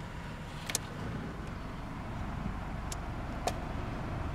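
A 1994 Toyota Camry engine idles with the AC switched on, a steady low rumble that drops slightly over a few seconds, with a few faint clicks near the start and later.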